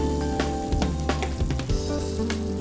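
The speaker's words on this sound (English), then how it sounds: "I'm going to heat half a tablespoon of butter first." Half a tablespoon of butter sizzling and crackling steadily in a hot pan, close and fairly loud, with irregular pops and spits over a continuous frying hiss.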